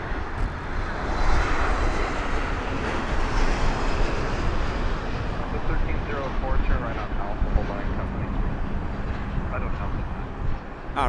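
An airliner on a Flare Aerolíneas flight lands at Las Vegas Harry Reid International Airport, a broad jet engine roar that holds steady at a distance, with some wind noise over the microphone.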